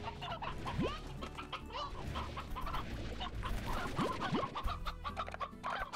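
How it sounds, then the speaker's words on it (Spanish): Chickens cluck repeatedly in the Slime Rancher video game, a busy overlapping chorus of fowl calls with a few sharp rising squawks, steady and fairly close throughout. "Se ha comido 7 pollos."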